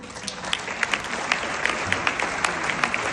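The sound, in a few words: audience applause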